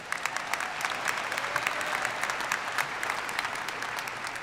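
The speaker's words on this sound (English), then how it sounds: "you can clap for Hassan" A large crowd claps at a commencement ceremony, sustained dense applause with scattered sharper individual claps standing out, holding at an even level throughout.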